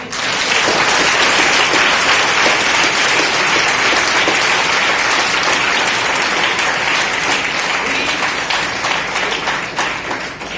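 Loud, continuous clapping from a large crowd at a motivational speech for students, parents and teachers, holding strong throughout before easing slightly near the end.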